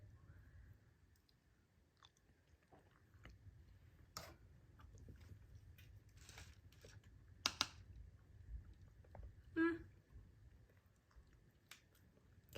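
Someone slowly chews a bite of old stockpile food with the mouth close to the mic: faint, irregular crunches and wet clicks spread through a quiet stretch, with no talking.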